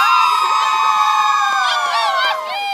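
A crowd of St. Mary's fans at a university football bowl game cheer, whoop and shout loudly and continuously, with high excited voices rising and falling close by.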